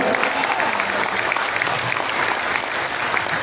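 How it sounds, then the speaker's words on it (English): A crowd at a grand opening and inauguration live show gives sustained, loud applause, dense clapping holding steady from start to finish. "So give a big clap for you guys."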